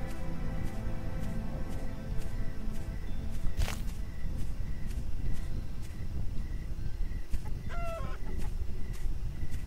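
Chickens in the farming video game Tree of Life cluck and crow repeatedly, with one rising squawk and a short rooster-like call, over a continuous bed of game background music.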